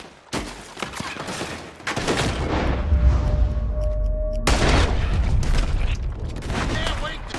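Gunfire in Red Dead Redemption 2 story mode, a dense, loud barrage of overlapping shots and booms with rattling bursts and a brief ringing tone, voices shouting over the battle.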